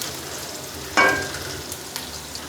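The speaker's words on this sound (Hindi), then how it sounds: "प्याज सारा हल्का फ्राई हो गया है।" Onions frying lightly in a pan for spicy masoor dal give a soft steady sizzle, with one brief louder crackle as something is stirred or added, close and fairly quiet.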